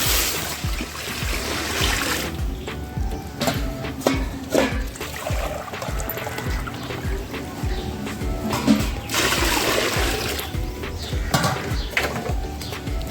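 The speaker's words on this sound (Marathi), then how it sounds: "याच पातेल्याने मी दोन पातेले पाणी ओतून घेणार आहे" Water is poured from one pot into another cooking pot while making rice-flour papad dough, a trickling, splashing pour heard in bursts under a voice in a home kitchen.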